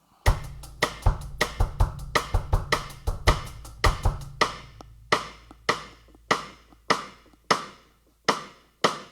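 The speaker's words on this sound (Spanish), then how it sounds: "El bossa nova" Bossa nova rhythm played on a drum kit: crisp, evenly spaced taps and clicks with low thuds beneath, steady and close, the sparser strokes ringing out clearly toward the end, with no voices.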